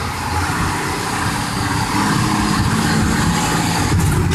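A 6x6 monster truck engine drones loudly and continuously as it rolls on and gains a little speed, a close, dense rumble that swells slightly partway through.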